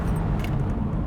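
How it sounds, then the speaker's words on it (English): A 2011 Porsche Boxster Spyder with 320 horsepower and optional ceramic composite brakes stops hard. Close, loud low road and engine rumble fills the moment, with no brake squeal standing out. "the optional ceramic composite brakes, and that makes this thing able to stop on a dime"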